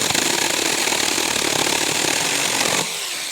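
A cheap $35 mini chainsaw cuts down a tree with a loud, buzzing, steady whine close by that drops to a lower idle near the end.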